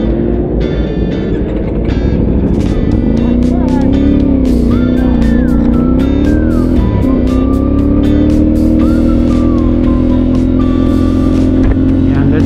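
An FB Mondial Piega 452 motorcycle rides hard on a racetrack, its engine loud and close in a constant drone, with the pitch climbing and dropping through gear changes and wind rushing past, and someone talking over it.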